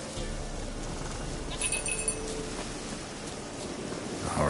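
A goat in Witcher 3 lets out a brief, thin bleat partway through, faint against constant outdoor game ambience resembling wind or surf.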